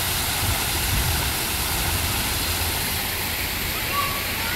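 Water flows steadily beside a swimming pool at a Dubai rental property, a constant broadband rushing hiss that stays loud and unbroken from start to finish.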